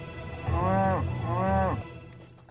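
A cow gives two drawn-out moos in close succession, fairly loud and near, with nothing else heard after them.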